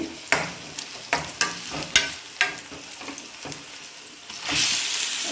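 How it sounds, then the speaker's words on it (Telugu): Chicken fries with onions and masala in a kadai, a soft sizzle broken by repeated sharp scrapes of a spoon stirring against the metal pan. "కొంచెమే కాబట్టి చికెన్ అలా కళాయిలో పెట్టేసిన"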